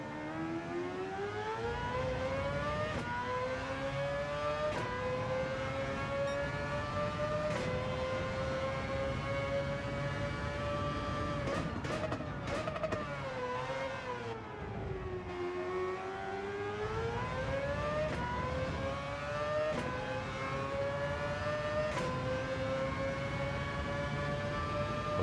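A race car engine from a GR3 league racing video game whines alone throughout, its pitch rising and falling steadily as the car shifts and brakes through corners, with a brief dip near the middle.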